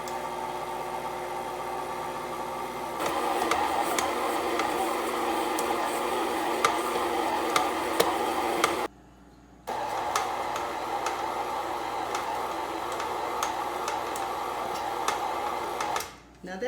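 Cookie batter with eggs and vanilla being mixed gently, a steady motor-like whir that cuts out briefly and resumes, with a voice talking over it.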